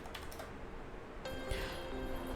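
Keys clacking on a computer keyboard as a short command is typed, a few quick close taps in small bursts over quiet background hiss.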